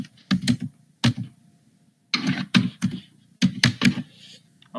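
Bursts of computer keyboard typing in three separate runs of rapid key clicks, fairly close and clear, with short quiet pauses between them and no talking.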